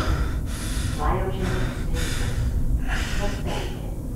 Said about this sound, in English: I'm breathing, it must be cold.